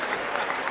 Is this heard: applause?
yes